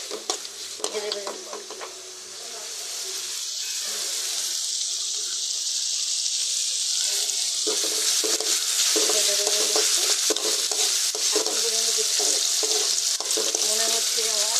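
Drumstick vegetable sizzling in a small amount of oil, the frying swelling to a loud, steady hiss with frequent stirring scrapes, and running water heard early on.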